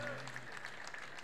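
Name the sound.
audience applause at a cafe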